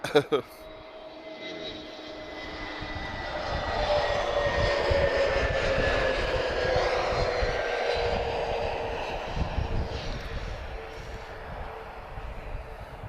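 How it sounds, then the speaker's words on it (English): An EasyJet Airbus A321neo jet arriving at Lisbon Airport from Barcelona rumbles past, its engine roar swelling to a loud, steady peak in the middle and then slowly fading. "A very nice A321neo from EasyJet. So new aircraft for them, EasyJet Europe. He's just arrived from Barcelona."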